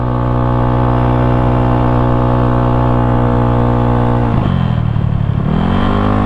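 A Yamaha Mio scooter engine runs steadily and loudly over a rough, bumpy road, its droning hum dipping and lurching briefly near the end as the ride jolts.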